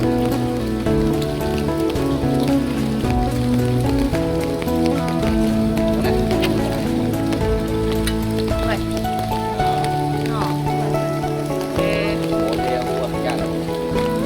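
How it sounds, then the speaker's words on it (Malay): Rain falls steadily on a durian orchard while fruit is being collected, a dense continuous hiss heard close and loud, with voices talking over it throughout. "Hujan-hujan."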